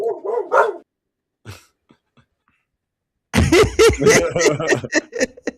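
Several sharp dog barks ring out close and loud in a busy, overlapping burst at the end, after a few scattered yips and a brief vocal sound earlier in otherwise quiet surroundings.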